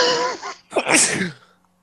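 A voice trails off, then a single loud, close sneeze erupts, followed by quiet.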